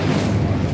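A brief, loud, low whooshing boom of an Incendio fire spell cast in the Hogwarts Legacy video game, a single dense rumbling burst lasting under a second, close and alone.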